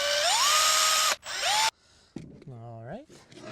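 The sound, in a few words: screw gun driving screws into wood compost bin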